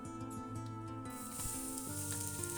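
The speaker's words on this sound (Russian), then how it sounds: "Добавляем лук и перец, все вместе, и обжариваем 5-7 минут на медленном огне." Steady, close sizzling of onion and pepper frying in olive oil in a pan over low heat, with occasional crackles and faint stirring.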